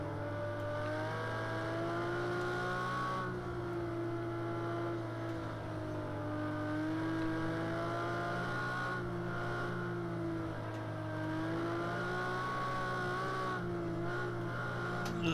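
A Ferrari race car engine in Project CARS 2 drones and revs under throttle, a strong steady harmonic roar that rises and dips with gear changes throughout, with no talking.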